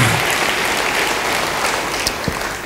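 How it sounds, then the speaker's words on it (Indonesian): A church congregation gives loud, sustained applause for the pastor, a dense and even wash of many hands clapping from start to finish. "Beri tepuk tangan bagi dia."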